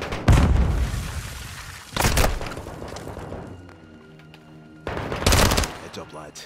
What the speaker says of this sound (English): Throwing a grenade in that room